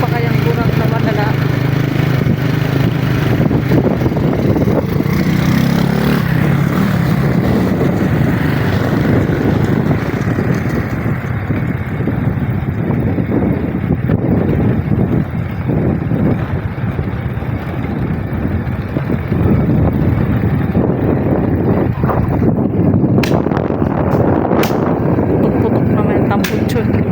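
A motorcycle engine runs steadily with a low, rumbling drone and wind buffeting the microphone, loud and close throughout while the rider talks over it.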